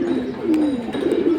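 A pair of fancy pigeons coos up close in a low, steady, wavering rumble that carries on without a break, with faint market noise behind it.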